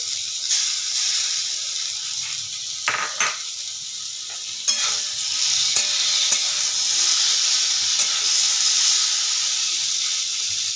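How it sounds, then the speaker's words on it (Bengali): Jackfruit core (bhuti) frying in oil in a pan, a loud steady sizzle and hiss with a few sharp clinks and scrapes of a spatula stirring, close by and without talk. "ভুতিটাকে আমার ভালো করে তেলে নেড়ে নিতে হবে।"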